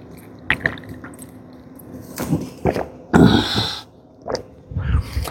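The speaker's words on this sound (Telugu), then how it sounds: "కొంచెం వాటర్ తాగాల" Water being drunk or poured close up, with scattered drips and a few gulping, sloshing bursts between quiet pauses.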